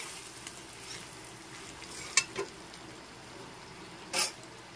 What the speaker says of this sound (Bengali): একটু নেড়ে চেড়ে মিশিয়ে নিচ্ছি।